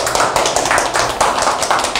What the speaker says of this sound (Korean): 여러분 감동적이셨으면 박수 한번 보내드립니다.